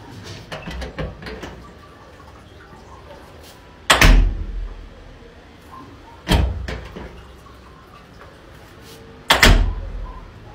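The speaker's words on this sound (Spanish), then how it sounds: "La puerta Netflix." Three loud, booming door-like thuds in the style of the Netflix intro, spaced a few seconds apart, each hit sharp and heavy with a short decay over quieter background noise.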